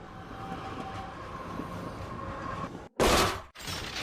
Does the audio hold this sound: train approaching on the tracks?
yes